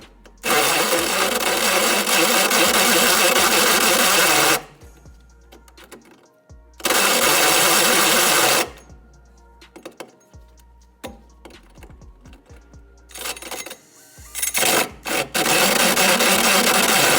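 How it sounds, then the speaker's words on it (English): A power drill with a 3-inch hole saw bit whirs loudly in several long bursts while cutting, separated by quieter gaps filled with clicks and handling noises. "grab your drill and that 3-inch hole saw bit"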